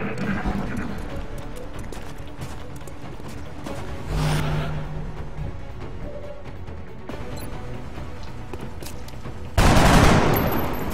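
Gunfire from the turn-based strategy game XCOM: Long War, a dense volley of shots with a louder, sharper burst near the end, mixed with game effects.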